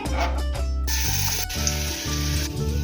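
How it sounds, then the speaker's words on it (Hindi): Steady sizzling of chopped garlic frying in hot oil, loud and close, with faint background music underneath. "अब हम इसमें चॉप किया हुआ लहसुन डालेंगे।"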